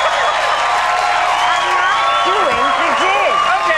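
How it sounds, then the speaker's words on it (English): A 1995 late-night talk show studio audience hoots and cheers in a dense, steady roar of crowd noise, with whistles and whoops rising over it throughout. "The audience can hoot and cheer"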